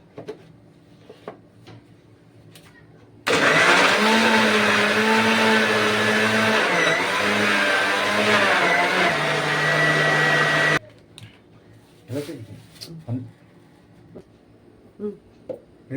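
A kitchen mixer grinder whirring loudly for about seven seconds while blending banana juice with milk and ice, starting and stopping abruptly, with small handling clatter before and after.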